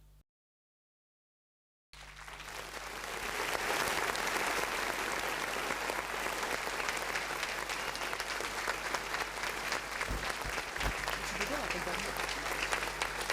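A large studio audience welcoming the host of a French TV show, applause swelling after a short silence into sustained, dense clapping with crowd noise that continues loud for the rest of the clip.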